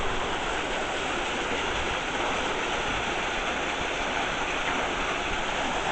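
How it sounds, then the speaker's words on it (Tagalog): A waterfall gives a steady, broad rush of falling water, close and even, with no breaks. "Parang sinasabi nilang waterfalls."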